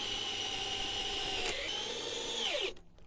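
A cordless power drill drives a long 150mm screw through timber into metal with a steady high whine that slows and drops in pitch as the screw pulls in, then cuts off abruptly.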